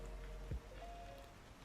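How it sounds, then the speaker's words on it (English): Soft rain patters faintly and steadily, with a low hum in the background and a single brief thump. "Can you hear the rain in the background? The soft rain."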